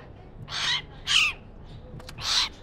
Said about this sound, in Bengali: দেখুন কত চমৎকার পাখিগুলো